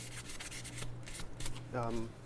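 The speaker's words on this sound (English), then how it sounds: "We're going to finish this with a 2000 grit" Fine 2000 grit sandpaper rubbed by hand over a wood finish during prep, giving steady soft scratchy back-and-forth strokes, close and moderately quiet, with a low hum underneath and no speech.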